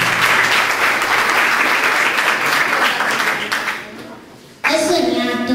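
Audience applause at a Befana celebration after a poem recited by two girls is announced, a loud clapping crowd that fades out after about four seconds, followed by a sudden burst of other sound.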